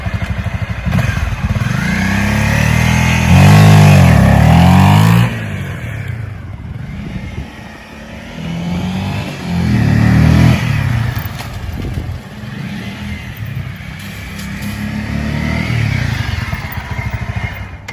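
A motorcycle launches hard using the rear brake, its engine revving loudly and climbing steeply, then easing off before surging again in repeated strong pulls, close and dominant.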